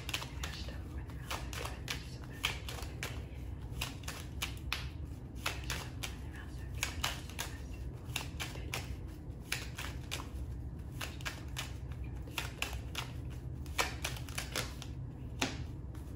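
Tarot cards shuffled for a reading, giving a steady run of quick papery riffles and light snapping clicks up close, continuing throughout.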